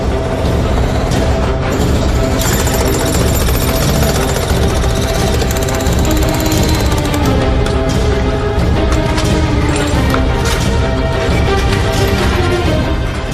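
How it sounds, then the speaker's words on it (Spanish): Pneumatic jackhammer demolishing an entire kitchen, a loud continuous rapid hammering with crashing debris, steady and close for the whole stretch. "los carabineros destrozan conscientemente y a golpe de martillo neumático una cocina entera en busca de escondites"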